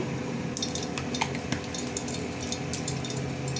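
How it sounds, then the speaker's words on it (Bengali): Mustard oil pouring into a pan on a lit gas stove makes a steady liquid hiss, with light metallic clinks and taps of utensils against the pan. "গ্যাস জ্বালিয়ে দিয়ে সর্ষের তেল দিচ্ছি।"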